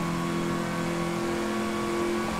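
A car engine in Forza Horizon 4 drones at a steady, loud pitch with a constant tonal hum, played on a steering wheel, running alone without change.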